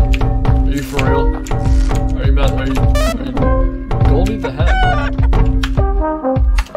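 Golden hen named Goldie in the Lisa video game, clucking and crowing in loud repeated bursts over a busy, steady music track.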